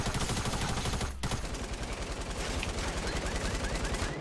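Light machine gun fire in Fortnite comes as rapid, continuous bursts of close, loud shots. A brief break near the middle is followed by more sustained rattling, and a voice is faintly present.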